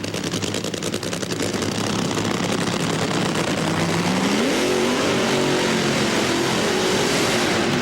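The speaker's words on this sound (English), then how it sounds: "Cruz Pedregon, the Interstate Batteries car, going to heat him up." Interstate Batteries drag racing car at the 1999 NHRA Pennzoil Nationals in Richmond, its engine roaring loud and steady, then rising in pitch as it revs up partway through.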